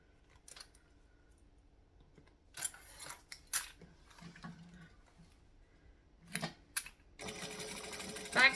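A sewing machine stitches a handbag with foam backing, starting with a back stitch: short, close bursts of stitching with pauses and handling clicks between, then a longer continuous run of steady stitching at the end.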